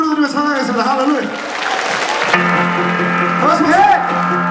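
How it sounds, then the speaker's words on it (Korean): A church worship crowd claps and cheers while a singer's voice and music carry on loudly on top, the clapping and shouting mixed under the sung praise. "우리 주님께 가장 큰 함성과 박수 올려드리며 찬양하겠습니다"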